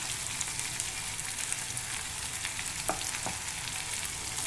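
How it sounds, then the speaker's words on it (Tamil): Pepper chicken sautés on high flame in a pan, a dense, even sizzle that runs throughout, with a couple of brief scraping strokes near the end and no speech. "இப்போ கொஞ்சம் ஹை ஃப்ளேம் வச்சு நல்லா இதை சுண்ட சுண்ட வதக்கிப்போம்"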